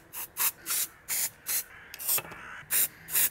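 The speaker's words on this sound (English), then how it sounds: "I also used this 3D scanning spray to remove all glares on this thing." A can of 3D scanning spray, a spray-on powder, is sprayed onto a Lego building block in about nine short, even hissing bursts in a regular rhythm, close and fairly quiet with no talking.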